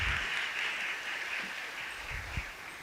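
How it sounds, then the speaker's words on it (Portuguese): A church congregation applauds during a service, with fairly faint, steady clapping across the short stretch and a few low thumps. "Vamos aplaudir a poderosa palavra de Deus."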